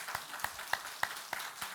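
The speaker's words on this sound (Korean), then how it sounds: "우리 감사 박수 한번 하겠습니다." Congregation at a Sunday worship service at Toegyewon Holiness Church gives a round of thanks-clapping: a sparse, evenly spaced run of distinct, fairly quiet hand claps in a reverberant hall.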